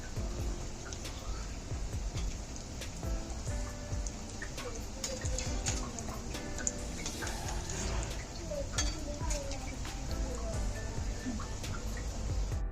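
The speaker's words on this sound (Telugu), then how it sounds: "సో ఒక 4 సమోసాస్ వేసి మనం డీప్ ఫ్రై చేసుకుంటాం" Four potato samosas deep frying in hot oil, giving a steady, dense crackle and fizz of small bubbling pops with occasional faint clinks of utensils, continuous throughout.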